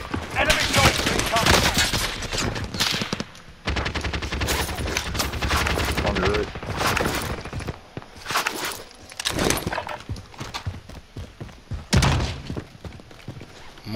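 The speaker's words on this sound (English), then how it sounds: "Hey, somebody from prison shooting at me, bro." Heavy gunfire in Call of Duty Warzone near a prison and bridge, dense bursts of automatic and single shots, close and loud, with pauses, thuds and footsteps, and voices talking over it.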